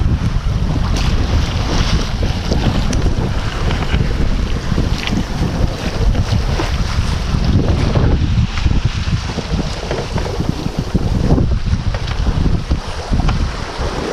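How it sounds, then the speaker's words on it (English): Soft wind gusts over a calm sea around a Contessa 26 sailboat in the Jester Challenge 2024, with a steady rush of wind noise and water washing against the hull, and no voices. "where the sea's fairly calm. The wind's blowing softly"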